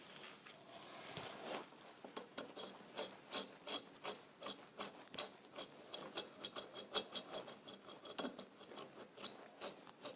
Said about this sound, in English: now I'm going to use my Phillips screwdriver and tighten both those screws down